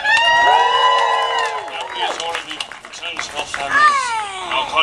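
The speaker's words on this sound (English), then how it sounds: "Big cheer." A crowd, many of them children, cheering and shouting with excitement at an outdoor show. Loud, high voices rise and swell, then surge again near the end.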